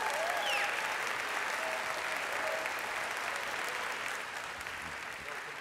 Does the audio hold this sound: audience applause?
yes